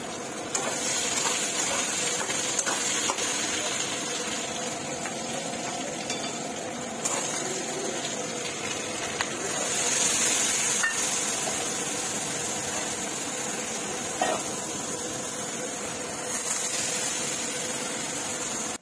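Aloo dum, a potato curry, cooks in a pot on a home kitchen stove, giving a soft, continuous sizzle with occasional clinks and stirring sounds, faint and steady throughout.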